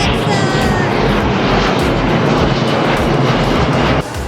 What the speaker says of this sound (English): there comes another airplane